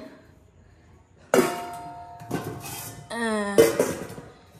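A metal kadai (wok) clangs as it is handled while preparing for a Lakshmi puja in a Bengali home, giving several loud, close, ringing knocks and scrapes with a sustained metallic ring between them and little talk.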